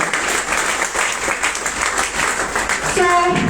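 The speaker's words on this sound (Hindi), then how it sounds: "एक जोरदार तालियां होनी चाहिए" A crowd at a business achievers' celebration bursts into loud, sustained applause, with a voice speaking briefly over the clapping near the end.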